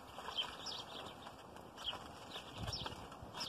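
Birds chirping faintly outdoors, scattered short calls over a soft background with occasional wing flutters.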